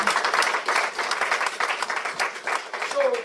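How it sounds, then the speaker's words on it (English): An audience at a public gathering applauds steadily, dense clapping from many hands, loud and continuous throughout. "Please clap for him again."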